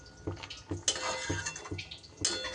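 A spoon scrapes and clinks against a cooking pot as biryani, made without oil or ghee, is stirred over a low flame. The knocks come in a loose, irregular rhythm, close and moderately loud.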